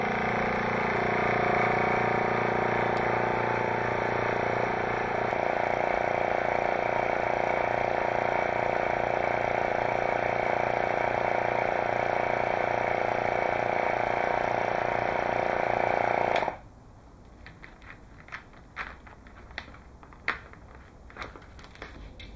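A vacuum pump's steady, loud mechanical drone runs for about sixteen seconds, then cuts off abruptly, leaving quiet scattered clicks and faint handling noise.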